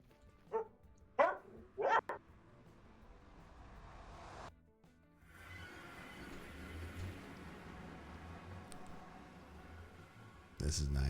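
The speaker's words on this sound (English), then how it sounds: "Is that your dog barking in the back, I heard?" A dog barks a few times in the background during a Minecraft stream, three short sharp yaps early on, fairly faint behind a steady low hum and ambient noise.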